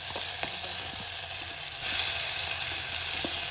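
Loud, continuous sizzling of ginger-chili paste frying in hot oil, with a brief surge in intensity partway through.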